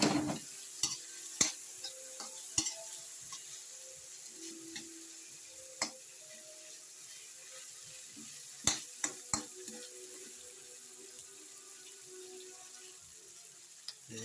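Pork sizzles softly in a pan for pinakbet while a utensil stirs it, giving a low steady frying hiss punctuated by scattered clicks and scrapes against the pan.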